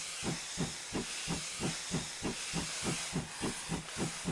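A GWR 2600 Class steam locomotive in Train Simulator 2020, with Steam Sound Supreme audio, chuffs in a quick even rhythm of exhaust beats over a constant steam hiss, heard close and alone.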